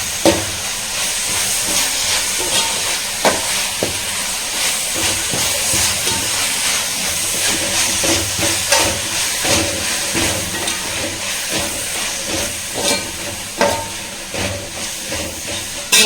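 Curry leaves frying in oil for a pickle, a loud, continuous hissing sizzle with scattered crackles and occasional stirring scrapes, heard close up for a long stretch without talk.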